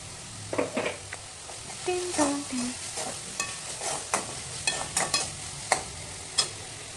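Onions and tomatoes sautéing in oil with cumin and salt in a home kitchen, a soft sizzle under repeated scraping and stirring strokes, with a faint voice in the background.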